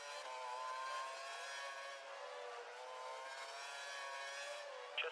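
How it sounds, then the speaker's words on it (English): A Formula 1 race car engine from the F1 2012 video game revs at sustained high pitch with steady harmonic whine, loud and close throughout, with slight dips and rises in tone. "We think the car behind is running on full revs, he's trying to close the gap."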